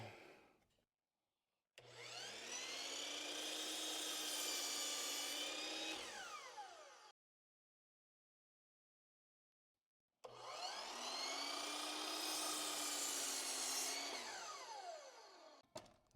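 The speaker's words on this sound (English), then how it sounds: "we're just cutting off the factory edge" Table saw cutting the factory edge off wooden boards for a ladder planter, two loud sustained whining cuts of several seconds each with a brief silent gap between them.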